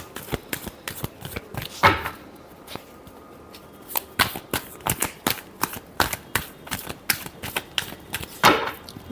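Tarot cards being shuffled by hand, a rapid series of crisp riffling flutters and snaps, close and clear, with no talking.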